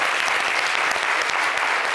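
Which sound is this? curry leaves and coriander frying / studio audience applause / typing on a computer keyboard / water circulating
studio audience applause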